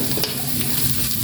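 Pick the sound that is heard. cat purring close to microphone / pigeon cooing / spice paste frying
spice paste frying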